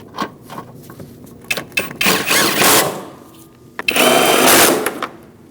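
A ratchet or power driver tightening rusty bolts on a 2004-2012 Chevrolet Colorado, several short clicking bursts followed by two longer whirring runs, close up.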